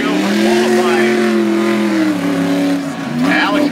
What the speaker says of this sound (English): He's got his Street Warrior revved up and ready to go.